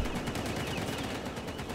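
Gunfire from the video game Battlefield Hardline rattles in rapid automatic bursts, a dense, continuous stream of shots that sounds loud and close, with no voices over it.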